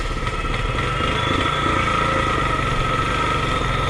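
A BS6 Royal Enfield Standard 350 with a fuel-pump and misfire fault runs loud and close in second gear, a steady thumping single-cylinder engine note throughout.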